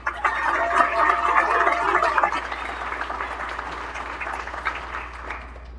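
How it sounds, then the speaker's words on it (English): Crowd applause for a 7th grade graduating class at an elementary school ceremony, dense clapping that starts strong and gradually thins and fades over several seconds. "let's give one last round of applause because this is truly an incredible group of kids"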